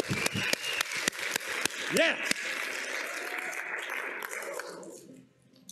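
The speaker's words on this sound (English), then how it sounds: "We can clap. Let's do it good" A church congregation claps together during a service: a burst of loud, irregular claps opens the stretch, followed by sustained applause and crowd noise that fades toward the end, with brief talk and a cheer mixed in.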